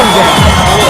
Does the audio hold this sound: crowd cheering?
yes